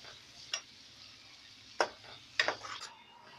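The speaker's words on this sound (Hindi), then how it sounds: "और अब आप इसको भून लीजिए, तब तक जब तक ये अच्छे से मिक्स ना हो जाए" Chole masala roasting in oil in a pan for a chickpea curry, with a few sharp spoon scrapes and stirring clatters over a quiet background hiss, no talking.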